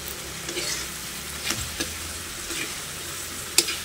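Dried fish and tomatoes frying in a pan, a constant sizzle with occasional soft clicks and a sharp tap near the end, close and without talk.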